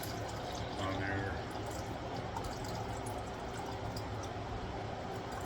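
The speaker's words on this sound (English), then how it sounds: "1 cup of water into the pot." A cup of water pours into a cooking pot during kitchen meal prep, a soft continuous splashing under steady room noise, fairly faint.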